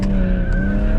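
BMW tyres skid on a low-grip surface, giving a brief, loud squeal with a sustained tonal whine over close engine rumble.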